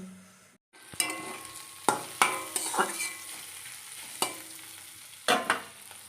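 Fish dropped into hot oil in a pan fries with a quiet sizzling hiss, broken by a series of sharp spattering pops and cracks at irregular intervals, close and with no talk.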